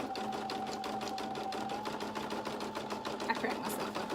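A sewing machine stitches an appliqué burp cloth with a steady, rapid mechanical clatter and a faint motor hum, running continuously at close range.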